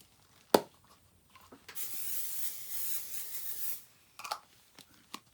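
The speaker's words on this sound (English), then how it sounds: "So this one I'm going to spray with my Pixie spray." A single sustained hiss of Pixie spray from an aerosol can used in glitter gel nail work, lasting about two seconds, framed by sharp taps and small handling clicks before and after.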